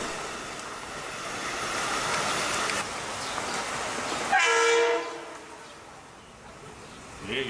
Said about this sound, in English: At 12:56, Amtrak Vermonter 54 came by with engine